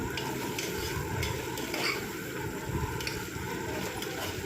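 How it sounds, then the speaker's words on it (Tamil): Chopped potatoes and carrots sauté in a pan with a low, steady sizzle, broken by a few soft stirring scrapes, quiet and close. "சேர்த்துட்டு ஒரு தடவை நல்லா வதக்கி விட்டுக்கலாம்."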